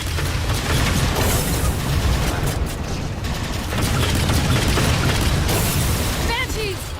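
Railgun fire in the video game Halo 4 amid a dense wash of explosions and battle noise, loud and continuous, with voices talking over the din.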